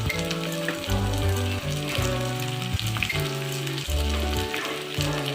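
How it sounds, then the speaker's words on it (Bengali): Onions sizzling in mustard oil for a homemade chicken curry, a close, continuous crackling fry with dense spitting pops, steady and fairly loud throughout with no voices. "পেঁয়াজগুলো লাল লাল ভাজা পর্যন্ত আমাদের ওয়েট করতে হবে"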